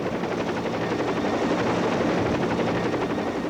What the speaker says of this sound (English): another enemy of the foot soldier has taken to the skies, the attack helicopter